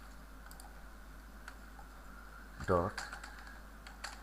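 A short flurry of computer keyboard typing while writing code, a quick burst of close keystrokes after a long, quiet stretch of low room hum, with a brief spoken word.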